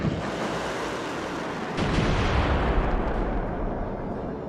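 Missile explosions from a Lancer tabletop RPG session, a sustained rumbling roar that swells and grows louder midway, dense and booming with no talk over it.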